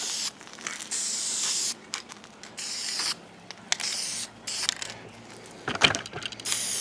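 Aerosol spray can hissing in repeated long bursts while painting Humvee soft doors, close and loud, separated by short pauses with light handling clicks.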